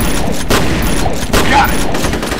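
A loud blast and dense gunfire fill a firefight on the Docks map of the F.E.A.R. Combat shooter, a continuous roar of shots and explosion noise heard close and without pauses.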